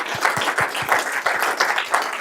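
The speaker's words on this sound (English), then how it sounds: "Huge round of applause for these kids." Applause from an audience at a school board of education meeting honoring students, a short steady patter of clapping with a few louder hands near the microphone.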